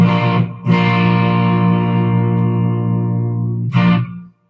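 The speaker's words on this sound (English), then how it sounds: "I have a little bit of distortion on it" A distorted electric guitar rings out in sustained, buzzing chords, loud and close, each one held long before being struck again.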